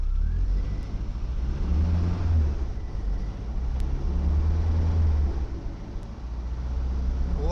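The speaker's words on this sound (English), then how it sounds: "Let me rev it." A tiny car's engine idles and revs up in steady surges, a low rumbling drone close by with no talking.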